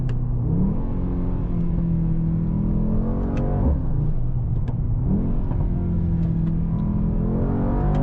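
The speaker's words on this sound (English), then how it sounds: "When you downshift, you get these nice crackles." A 2024 Mercedes-AMG GT 63 S 4-Door with a biturbo V8 revs and shifts down on a fast track drive, its loud, continuous engine roar rising and falling, with scattered sharp exhaust crackles and pops.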